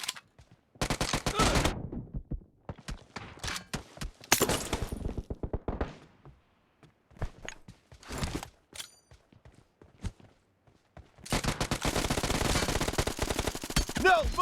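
A light machine gun rattles in rapid automatic bursts during a video game arena match, with several separate volleys broken by short pauses and a long sustained burst near the end.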